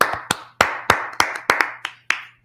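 A church congregation claps for the Lord at a Tuesday Brotherhood class, about eight sharp, evenly spaced claps ringing close and loud over a low hum, with no talking.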